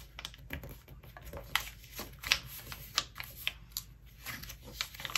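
A paper airplane glider being folded by hand, with small crisp creasing clicks and soft paper rustles that come close and quiet in an irregular rhythm.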